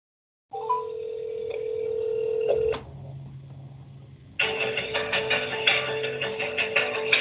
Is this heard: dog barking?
no